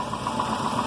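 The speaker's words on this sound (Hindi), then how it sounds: "अब हम इंजन को रिवॉल्व करेंगे" Car engine held at raised revs for an alternator charging test with all electrical loads off, a steady mid-pitched drone with slight knocking texture that runs alone and unbroken throughout.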